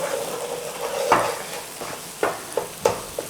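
Onion paste frying and sizzling in a pan for chicken madras, stirred with a utensil that scrapes and knocks against the pan several times over a steady close hiss.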